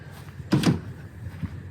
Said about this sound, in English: the doors shut just amazing